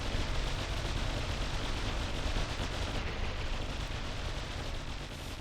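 Turret shots from a battle video game, sounding as a dense, steady roar of firing and impacts that fades slightly toward the end, with no voices.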